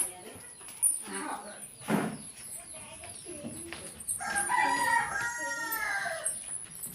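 Chickens cluck and a rooster crows faintly in a rural home yard, the rooster's drawn-out call toward the end, with people talking over much of it.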